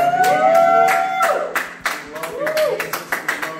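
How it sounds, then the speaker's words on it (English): A congregation claps during Sunday morning praise and worship in a church sanctuary, sending sharp, scattered hand claps over singing or talking voices and sustained tones. "why don't you give him a clap off for this morning"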